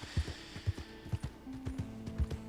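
A horse's hooves clip-clop at a steady walking pace in Red Dead Redemption 2, regular thudding beats close by over a faint low hum and no talking.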